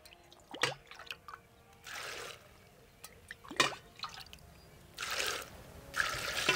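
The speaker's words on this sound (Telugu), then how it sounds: "ఇప్పుడు 5 గ్లాసులు నీళ్ళు పోయాలన్నమాట" Water poured into a pot of rice and lentils while cooking bisibelebath, a Karnataka dish, with short splashing and trickling pours in separate bursts, near and moderately loud, plus a few drips between them.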